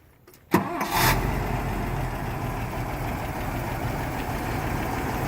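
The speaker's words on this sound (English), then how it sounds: "I'm just going to start this engine so you guys can hear what it sounds like" A 1974 Toyota FJ40 Land Cruiser engine with a rebuilt carburetor cranks and catches with a sharp start, then settles into a steady, rumbling idle close by.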